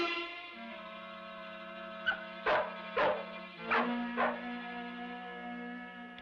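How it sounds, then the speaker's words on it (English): A dog gives four or five sharp barks in quick succession over a sustained background music drone, fairly close and loud, with no talking. "That dog's barking might have alerted them."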